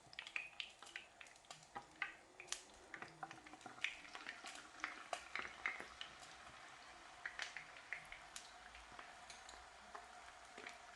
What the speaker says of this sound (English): Now you can see it sizzling.